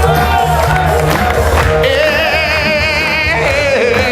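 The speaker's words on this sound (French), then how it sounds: "Applaudissements." An audience cheers, whoops and shouts loudly and continuously, a dense crowd roar with some applause mixed in over music.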